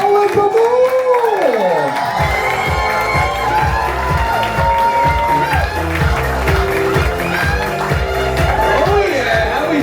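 A crowd cheers and claps at a rock and roll dueling piano show aboard a cruise ship, a loud and dense wall of applause and shouts with music playing throughout.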